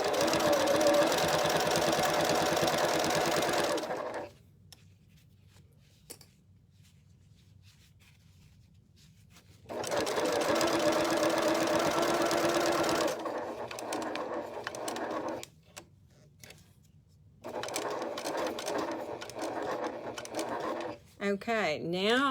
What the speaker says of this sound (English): And then we're going to sew that bottom hem.